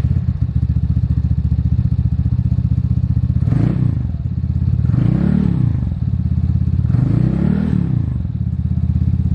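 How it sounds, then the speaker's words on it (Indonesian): A Vespa Sprint racing scooter with a Polini exhaust and carbon tip runs close by. Its engine idles with a buzzing putter and rises through three sweeping rev blips, loud and unbroken. "Kemudian untuk knalpotnya pakai Polini"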